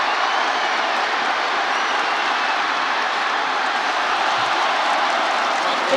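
A large stadium crowd at a 2022 Syracuse versus Wagner college football game roars during a long run, producing a steady, loud, broadband roar that holds level throughout.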